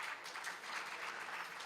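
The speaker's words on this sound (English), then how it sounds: "Let's give them a round of applause again." A brief burst of applause from a workshop audience, a dense, even wash of clapping heard in the room for under two seconds.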